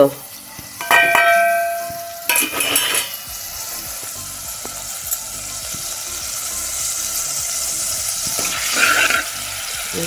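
Mustard seeds, curry leaves and asafoetida frying in two spoons of hot oil for a traditional Goan dish, a loud close crackle and sizzle with scattered popping and metallic clinks, no speech.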